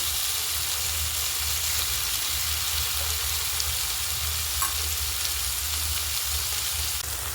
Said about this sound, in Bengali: এবার আমরা পটল এবং পেঁয়াজটাকে একসাথে ভাজবো।